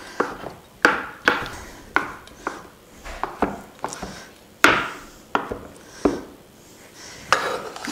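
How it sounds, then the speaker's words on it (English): A knife roughly chopping chestnuts and cashews on a wooden board for a nut roast, with a dozen or so sharp, close chops at an uneven rhythm and no talking. "I'm only going to very roughly chop them"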